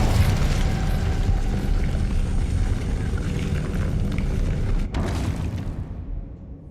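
Incendio fire spell cast in Hogwarts Legacy, a loud roaring burst of flame with a rumbling, explosive low end that holds steady for several seconds before cutting off abruptly and fading out.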